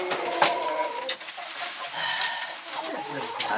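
A small hen with a tiny comb clucks and makes brief squawks in a few short bursts, close by and fairly faint, with a quiet farmyard background.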